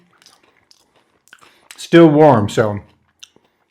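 Biting and chewing a still-warm, crunchy Cadbury Mini Egg bakery-style cookie, with faint clicks and crunches close to the mic before a short burst of talk takes over.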